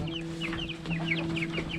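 Chickens cluck and chirp in quick bursts on a small Thai farm with goats, fish ponds and quail, the calls steady and fairly close over a constant low mechanical hum, with no talking.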